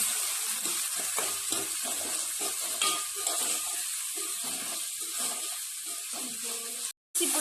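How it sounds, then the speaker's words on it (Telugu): Tomatoes frying in ginger garlic paste in a pan while cooking mutton akhni, a steady close crackling sizzle with occasional stirring scrapes throughout, ending in a brief cut of silence. "ఇప్పుడు ఈ టొమాటో అయితే ఫ్రై అవుతున్నాం కదా"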